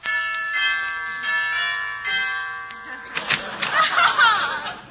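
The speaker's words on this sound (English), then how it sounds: "Yeah, I'll ring the bell here." Doorbell chimes ringing inside a house in a 1947 radio comedy, several sustained bell tones decaying over a few seconds, then muffled door and movement noises follow.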